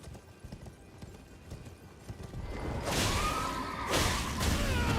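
Hooves clip-clop from a mounted boss in the Elden Ring video game, a rhythmic galloping that grows louder and denser partway through, joined by swooshing bursts of combat sound.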